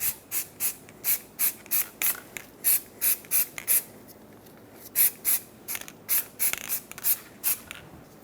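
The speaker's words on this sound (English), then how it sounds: "apply some anti-seize, either with a brush or a spray" Short hissing bursts of aerosol anti-seize sprayed onto a brake hub, about twenty quick puffs in an uneven rhythm, close up, with no talking.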